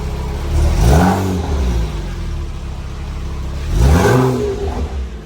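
A Porsche 987 engine fitted with catless long tube headers revs twice nearby, each blip a rising, raspy roar that falls back to a rumbling idle, with no talk over it.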